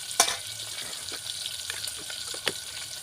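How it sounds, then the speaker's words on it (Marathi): Chopped onion sizzles as it hits hot oil in a pan for a spicy soya chunk curry. A steady crackling fry is broken by a few sharp stirring clacks, close and with no voices. "तेल गरम झालं त्यामध्ये कांदा टाकूया"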